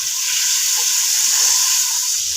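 Tomato paste hits a hot frying pan and sizzles steadily, a loud, close, continuous hiss with no talking over it.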